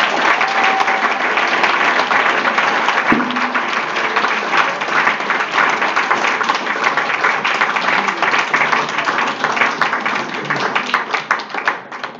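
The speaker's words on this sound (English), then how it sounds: "Everyone, please give a big round of applause" Sustained, dense audience applause at a Barnes Film Festival live interview with Steven Moffat and Sue Vertue, many hands clapping evenly and loudly for over ten seconds with a faint voice briefly audible.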